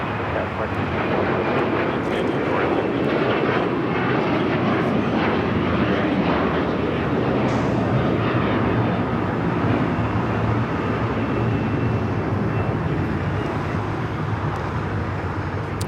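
A jet airliner bound for Newark departs LAX, its engines a loud, steady broadband roar that stays constant throughout, with faint voices underneath.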